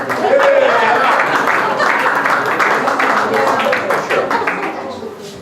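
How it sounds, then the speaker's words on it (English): Audience applause at the Harbor Place dedication ceremony, a steady wash of clapping lasting several seconds with voices talking over it. "Round of applause."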